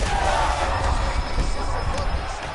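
Loud arena crowd noise from the UFC 5 fighting game swells with cheering and roaring between rounds of a fight, a dense continuous wash of voices throughout.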